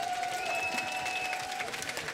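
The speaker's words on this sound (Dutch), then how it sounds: "Een applaus voor de zangers." An audience at a carnival show applauding the singers, a steady wash of clapping heard from some distance at a moderate level, with faint crowd murmur and a sustained tone running underneath.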